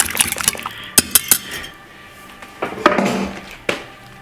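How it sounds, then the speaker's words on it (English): Cabbage slaw mixture being mixed in a bowl, with a run of close clinks and scrapes of a utensil against the bowl plus wet, squelching stirring, loud and alone. "You want to mix this all together so you get a nice good consistency throughout."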